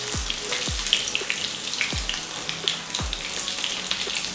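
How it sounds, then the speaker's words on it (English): Pieces of pointed gourd (parwal) fry in hot oil for a Bengali mustard dish, giving a steady close sizzle with scattered pops and crackles and no talking. "I am going to fry all these parwals until it will become little golden brown"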